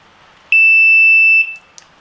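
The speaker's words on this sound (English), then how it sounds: "you're adjusting your bobbins and you're getting beep beep beep beep beep" An MK1 R-Plus Compact carp fishing bite alarm gives one sustained, piercing electronic tone lasting nearly a second, followed by a faint short chirp, close and alone against a quiet background.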